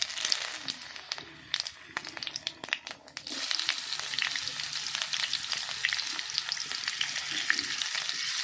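Dry red chillies, bay leaf, cumin and chopped raw onion sizzle in hot oil for mutton curry, a steady crackling fry that jumps louder partway through as the onion goes in, with occasional stirring clatter.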